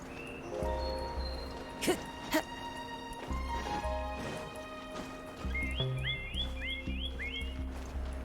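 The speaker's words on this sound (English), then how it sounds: "The birds are really nice. I like the sounds." Bird chirps and tweets in the Genshin Impact video game, short rising calls repeating in quick bursts over a steady ambient game backdrop, with a few sharp clicks and tones.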